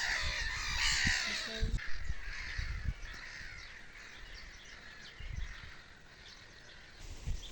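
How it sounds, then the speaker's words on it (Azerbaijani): Crows cawing outdoors in a tree, several harsh caws overlapping in the first two seconds, then quieter scattered calls over a steady outdoor hiss, moderately distant, with no talk. "Quşları çəkmək istəyirdim, o da ağaca görə çəkə bilmədim."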